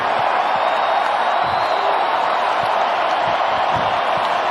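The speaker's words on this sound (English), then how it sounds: "How about this crowd?" Large football crowd at the NFC championship trophy presentation roaring and cheering in a steady, dense wall of noise, with scattered whoops and claps throughout.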